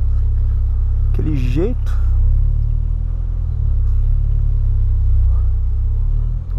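A VW Polo Sedan with a fork stuck in its tyre rolls slowly while maneuvering to park, giving a strong, steady low rumble from close inside the cabin. A voice speaks briefly over it, with a short whistling tone near the start.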